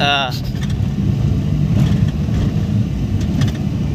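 Car engine droning steadily up close while driving on a rough road, with bumps and rattles over the hum and a voice talking throughout.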